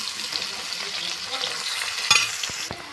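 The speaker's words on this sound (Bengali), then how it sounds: "মাছের তেলে আলুগুলো ভেজে নেব, একটু লাল লাল করে আলুগুলো ভেজে নেব" Potatoes fry in fish oil in a pan, giving a steady, close sizzle with brief clinks of stirring.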